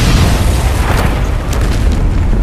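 Detonator-triggered explosion in a World War I war film, a sustained, dense roaring blast of low rumble and debris noise that stays loud throughout with no speech.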